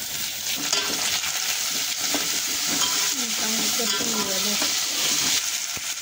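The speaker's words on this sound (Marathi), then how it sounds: "आता आपण तेजपत्ता आणि दालचिनी टाकून देऊया त्याच्यात। आता टमाटर टाकूया" Tomatoes frying with bay leaf and cinnamon in a pan for masala rice, a steady loud sizzle with stirring scrapes throughout, no talking.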